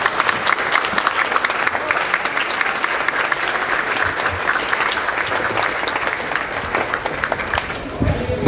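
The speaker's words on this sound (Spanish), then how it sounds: "Recibámoslo con un fuerte aplauso." Loud audience applause welcoming a speaker to a panel event in Mexico, dense continuous clapping from a full room that stays strong throughout, with faint crowd murmur underneath.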